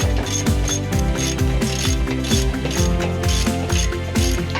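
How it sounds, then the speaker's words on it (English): A ratchet wrench clicks rapidly and steadily as a bolt is backed out of the C-pillar crossbar on a Jeep JK Wrangler Unlimited's factory roll bar, close and loud with no talking. "You can now remove the bolt securing the C-pillar crossbar to the factory roll bar"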